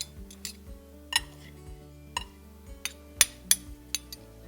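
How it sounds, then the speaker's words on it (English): Coconut and panko breadcrumbs are stirred in a bowl, a utensil knocking and clinking against the bowl in about nine sharp, irregular taps over soft background music, with no talking. "Now let's mix our coconut and our panko breadcrumbs."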